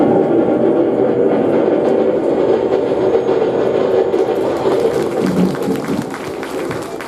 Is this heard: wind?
no